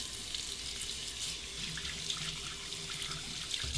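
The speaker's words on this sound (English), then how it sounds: "Let's do a final rinse of the razor." A razor, a 1959 Gillette Fatboy, is rinsed under a running tap in a bathroom sink, with steady, close water noise filling the whole stretch without a break.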